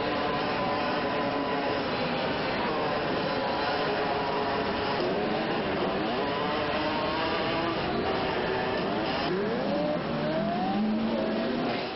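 Motorcycle engines whine and rev in the Moto Racer 2 racing game on PC, shown at E3 1998, as a continuous layered drone of rising and falling pitches with no voices.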